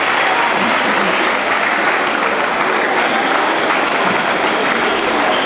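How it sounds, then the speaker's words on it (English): An audience at a mentorship event at Marist Comprehensive Academy in Uturu breaks into a round of applause, with dense, loud and continuous clapping from many hands that holds steady throughout. "Can we give her a round of applause?"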